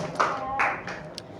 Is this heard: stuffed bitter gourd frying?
no